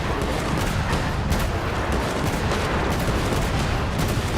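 Rapid video game gunfire in Genshin Impact, a dense, loud, continuous barrage of shots with sharp bursts throughout, no voices.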